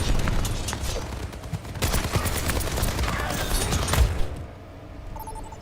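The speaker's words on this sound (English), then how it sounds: "He's deflecting all of the bullets." Gunfire in the hero shooter Overwatch being deflected back, a busy stream of sharp shots and metallic pings with a heavier impact just before it stops.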